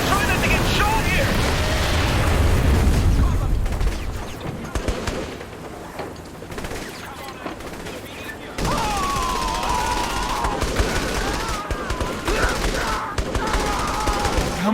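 Gunfire in the video game Saints Row The Third, dense bursts and rattling shots mixed with engine roar and game effects, loud and continuous, with voices talking over parts of it.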